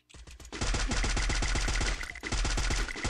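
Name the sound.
gunfire in the video game Free Fire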